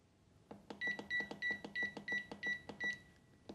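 Control panel of a Panasonic bread oven beeping as its timer is set, about a dozen short bright electronic beeps in a quick uneven series, close and clear, with no talk.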